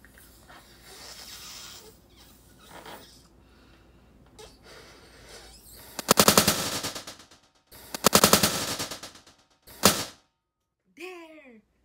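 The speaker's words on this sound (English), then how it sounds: "First time I did that one, blow the balloon two layer" A two-layer balloon, one balloon inside another, bursts with a loud sharp pop, followed by a second burst and a short pop, with faint breathing and rustling before and a brief exclaiming voice after.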